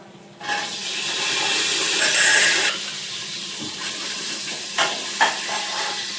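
Green chillies hit hot oil in a pan for bagara rice, bursting into a loud hissing sizzle that holds for a couple of seconds, then settles to a lower crackle marked by a few sharp pops.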